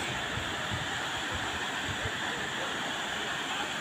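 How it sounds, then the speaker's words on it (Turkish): Sütüven waterfalls in the Kaz Mountains near Edremit, Turkey, produce a continuous broadband rush of falling water, steady and enveloping at moderate level, with no distinct breaks. "Kaz Dağları'nda Sütüven Şelaleleri"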